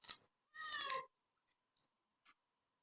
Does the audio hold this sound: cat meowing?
yes